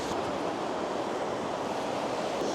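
A waterfall in Iceland gives a steady, dense broadband rush that fills the whole moment without pause, loud and close, with no voices over it.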